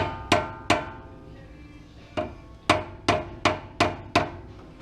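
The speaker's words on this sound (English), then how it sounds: "We're going to use a mallet. I'm going to go tap him into place." A mallet taps a knurled steering part into a press fit on a 2015 Jeep JKU during a suspension install, giving eight sharp metallic knocks in uneven groups, close and loud with short ringing decay.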